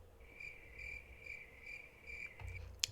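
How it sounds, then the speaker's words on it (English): A cricket sound effect played on a gaming livestream: a steady, shrill chirp pulsing in even beats, faint and alone against a quiet background, ending with a brief click. "Crickets being very quiet."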